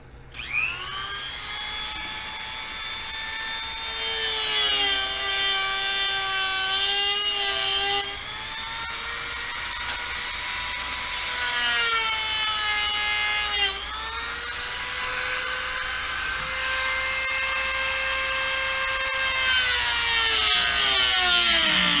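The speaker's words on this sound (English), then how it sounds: "I'm going to Dremel out a squared off little notch out of here so that the reel doesn't spin around" A Dremel rotary tool cutting a squared notch into a Pelican Bass Raider kayak, a loud, close, high whine that holds steady for about twenty seconds, its pitch dipping and rising as the bit bites into the plastic.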